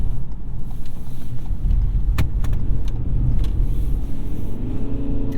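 A 2022 Ford Maverick Hybrid being driven into a corner at the edge of understeer, heard from inside as a steady loud road and tyre rumble with a rising engine hum toward the end.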